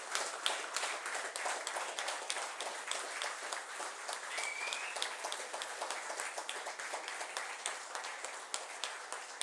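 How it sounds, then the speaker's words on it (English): Dense audience applause for professors at a felicitation ceremony, a steady wash of many hands clapping alone for the whole stretch with no talk over it. "please give a big round of applause to everybody"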